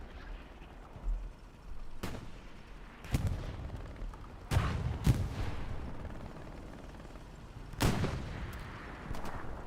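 Gunfire during a competitive console match of the World War II shooter Hell Let Loose, with sharp separate shots and booms spaced irregularly, some close and loud, others more distant, over a low battlefield rumble.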